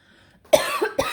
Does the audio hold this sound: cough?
yes